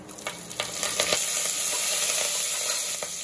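Curry leaves and spices crackle and sizzle in hot sesame oil for a Sunday mutton curry, a steady close frying hiss with scattered sharp pops and no talking.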